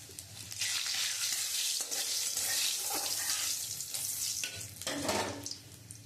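Two dried red chillies, a bay leaf and radhuni seeds crackle in hot white oil for a vegetarian curry, a dense close hiss with brief bursts of spitting and stirring, no voices over it.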